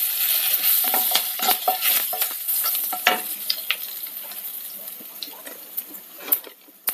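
Dried red chilies and curry leaves crackle and sizzle loudly in hot oil, with sharp pops and spatters at the start that settle into a softer hiss, with stirring scrapes in between.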